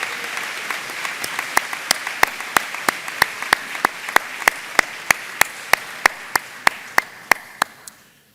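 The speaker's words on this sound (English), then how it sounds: "Let's please give them a round of applause." Audience applause at a college leaving-class ceremony: a steady wash of clapping with sharp, evenly spaced claps standing out in a regular beat, fading quickly at the end.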